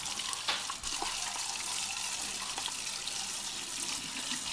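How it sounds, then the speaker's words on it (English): Brass parts from a 1920s AGM 288 lantern are rinsed under a running tap, a steady broadband rush of water that continues close and fairly loud throughout, with brief splashes as the metal pieces move under the stream. "I'm just going to rinse it"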